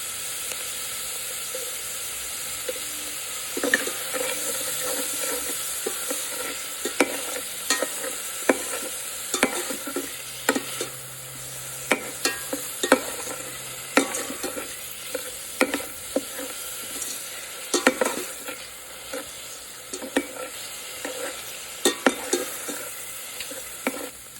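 Food sautés with salt in a single pot on a dorm-style stove, giving a steady sizzle and hiss throughout, broken by frequent sharp clinks and scrapes of stirring; no one speaks.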